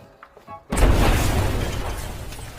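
A warehouse blowing up as a film sound effect: a sudden loud blast with shattering debris after a brief quiet lead-in, then a long rumbling roar that slowly fades.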